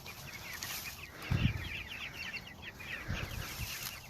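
Chickens of mixed sexes, roosters and hens, housed in a sunlit chicken tractor on a farm, cluck in a steady flock chatter at moderate distance, with a few low thumps and shuffles beneath and no talking.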